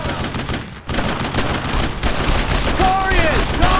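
Battlefield gunfire in Brothers in Arms: Road to Hill 30 rattles in a dense, continuous barrage of overlapping shots and bursts, loud throughout, with whistling effects near the end.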